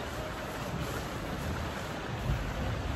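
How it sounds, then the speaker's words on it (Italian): Steady, dense hiss of heavy thunderstorm rain pouring continuously at a horse riding arena, with a low rumbling wash underneath and no voices. "c'è il temporale. C'è il temporale. Lo sentite?"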